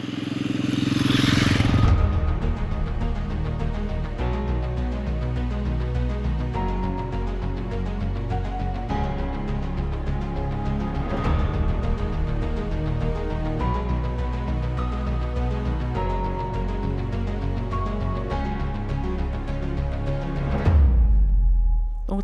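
A motorcycle rides along off-road through green valleys in Iceland, its engine droning steadily at close range with gear changes and a brief wind rush at the start and end.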